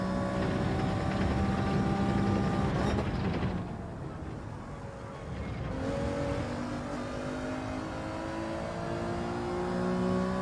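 Steady engine drone of a race car in Gran Turismo 7, its harmonic tones shifting as revs rise and fall through gear changes, with a brief dip in loudness midway before the engine note climbs again.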